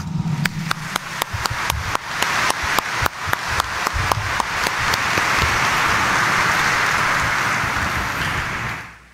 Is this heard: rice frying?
no